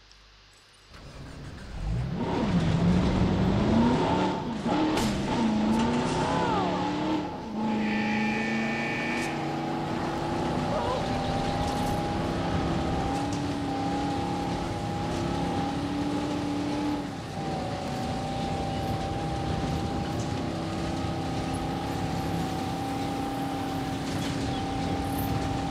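A jeep drives in Jurassic World Evolution, its engine revving up loudly and then settling into a steady, sustained drone with a few pitch shifts, running continuously with no talk over it.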